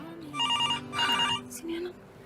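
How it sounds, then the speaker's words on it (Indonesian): A phone rings for an incoming video call, two repeated electronic ringtone bursts close by, with a voice speaking over and around the ringing. "Kayak telepon segala lagi nih Kisha. Video call lagi"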